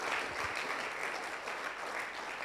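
A church congregation at a ministers' gathering claps loudly and steadily, a dense wash of applause that holds without a break.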